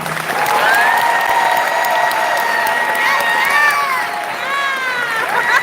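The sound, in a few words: audience applause for student athletes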